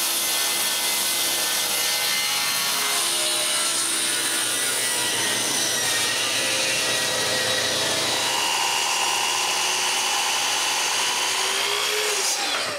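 Cherry wood block being surfaced and cut with a power tool, a steady loud machining and sawing noise running throughout with rasping changes in pitch, no voices.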